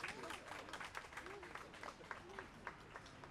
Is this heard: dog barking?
no